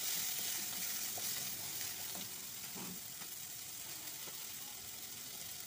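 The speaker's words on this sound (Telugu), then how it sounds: "ఒక చిన్న కప్పు అంతే పచ్చి కొబ్బరి, అది కూడా ఫ్రై చేద్దాం." Fresh coconut and garlic fry in a pan, giving a steady, moderately loud sizzle with faint scraping and stirring noises over it, and nobody speaks.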